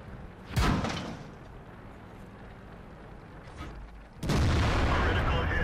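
World of Tanks, a high-explosive shell from a T28 Hunter tank destroyer hits an enemy tank with a sharp booming impact, followed by a rumbling engine bed, then a second loud blast near the end.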